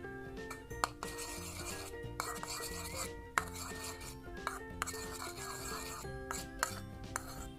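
Homemade slime without glue or borax being stirred with oil and red coloring, a quiet, continuous rubbing and scraping with small clinks of utensil against container, broken by brief pauses.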